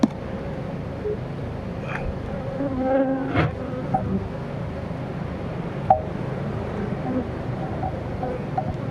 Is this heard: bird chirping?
no